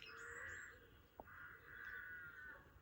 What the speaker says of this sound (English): those crow sound effects are quite nostalgic for me